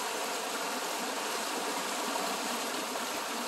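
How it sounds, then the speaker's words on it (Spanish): A swollen river rushes past in a steady, broadband roar of flowing water, loud and continuous with no pauses, heard close by outdoors. "está un poquito crecidito lo que es el río"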